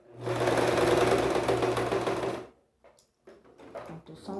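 A domestic sewing machine stitching fabric in a steady, fast mechanical whir for about two and a half seconds, then it stops and a few soft clicks and handling noises follow as the piece is turned.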